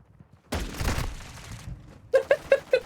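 Pistol shots in a shooter video game: a dense burst of firing, a short pause, then four sharp evenly spaced shots, each ringing with a bright metallic tone, with no talk over them.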